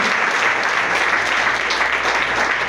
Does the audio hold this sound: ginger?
no